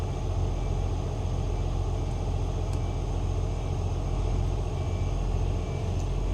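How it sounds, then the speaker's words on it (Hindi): A started car engine idles with a steady, close low rumble and even hum throughout, with no voices. "मैंने स्टार्ट कर दी ऑलरेडी गाड़ी"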